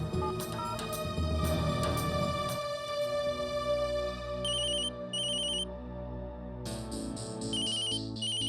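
A telephone rings out on an outgoing call in a Hindi TV drama scene, with a tonal ringback pattern repeating in short high bursts over steady background music, and no talking.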